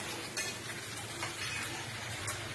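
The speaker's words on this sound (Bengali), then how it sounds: "ডিম না, পেঁয়াজ ফ্রাই করছো, তাই তো?" Onions frying in a pan for a home-cooked egg posto dish, giving a steady close sizzle with light spatula stirring and occasional clinks of utensils against the pan.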